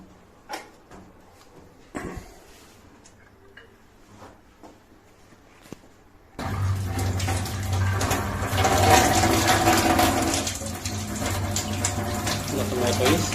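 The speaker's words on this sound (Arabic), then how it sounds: "نجربه هنا ضغط المية." A kitchen tap in an Alexandria apartment is opened fully to test water pressure. After a stretch of quiet room noise, a loud, steady rushing gush starts abruptly and runs to the end.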